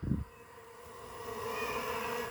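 Stingless bees drone at their hive in a faint, steady buzz that holds evenly for a couple of seconds after a brief low thump.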